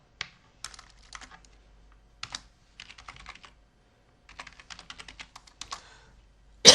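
Typing a database name on a computer keyboard: short clusters of crisp key clicks separated by brief pauses, close and clear in an otherwise quiet room.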